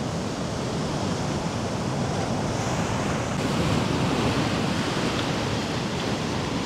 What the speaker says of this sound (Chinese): 我从来没有见过这么大的浪。